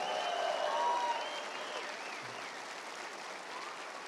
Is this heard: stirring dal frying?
no